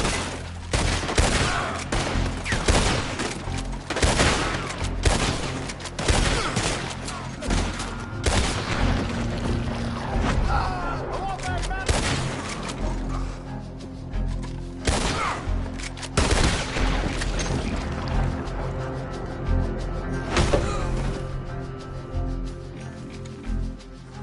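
Sustained gunfire and bursts of shots in a PS4 video game, loud and dense, with repeated booming volleys across the whole stretch.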